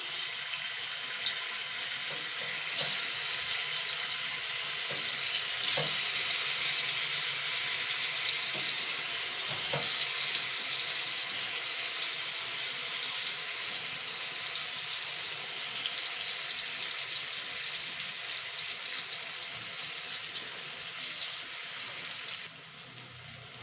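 Chana dal fritters frying in hot oil, a soft, steady hiss and sizzle heard close up with a few faint clicks and no talking.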